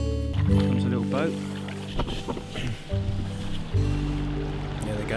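A passing motorboat engine drones close by on a river in Norfolk with a low rumble, heard from an inflatable canoe, while water sloshes and a person speaks over it.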